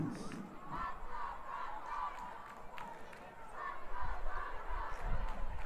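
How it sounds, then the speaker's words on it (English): Cheerleaders chanting and cheering at a high school football game between Hightower and Bush, a steady crowd roar in the stands with rhythmic shouts swelling toward the end. "The Bush cheerleaders are still cheering with gusto"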